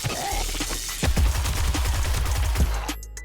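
Gunfire in the zombie survival game 7 Days To Die, a loud close burst of rapid shots with sharp impacts and a rumbling low tail, ending in a brief drop before another hit.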